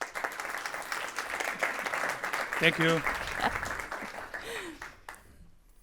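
A live audience applauds a guest at a fireside chat, a broad sustained patter of clapping with a brief spoken thanks heard over it before it fades.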